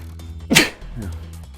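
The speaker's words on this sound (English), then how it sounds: "I'm gonna sneeze." A single sharp human sneeze bursts out close and loud, brief and explosive, over quiet background game sound.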